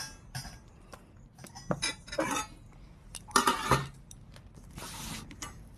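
Food is served onto a plate at home for lunch. There are scattered metallic clinks and scrapes of a spoon against dishes and a plate, fairly quiet and close, with short gaps between the knocks.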